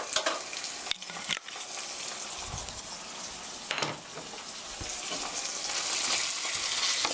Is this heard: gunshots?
no